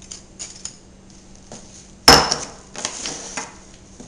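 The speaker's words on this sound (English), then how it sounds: "Place the wood chips in the smoking pan." Wood chips dropped into a metal smoking pan: a few soft taps and rustles, then one sharp metallic clatter followed by lighter scattered clinks, close and fairly quiet otherwise.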